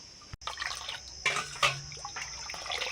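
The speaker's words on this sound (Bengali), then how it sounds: "ছেঁকে মিছরির জলে মিশিয়ে নেব" Herbal leaf juice is strained into sugar-candy water, giving soft drips and trickles of liquid with a few sharper splashes in a quiet room.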